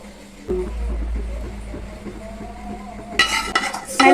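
Chicken biryani being mixed in a pot, a spoon scraping and clanking against metal in uneven strokes, with a few sharper clinks toward the end.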